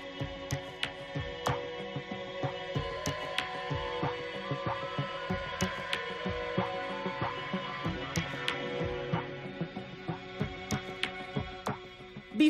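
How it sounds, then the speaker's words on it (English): A lottery ticket folding machine creases printed tickets along their perforations into fan-folded piles, running with a steady mechanical hum and a regular stream of clicking, ticking strokes throughout. "The next machine folds the tickets along the perforation lines into piles called"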